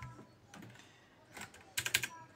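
A few soft keypresses, then a short burst of sharp clicks near the end from a Rampage Snug K14 blue-switch mechanical keyboard, close and fairly quiet against a low room hum.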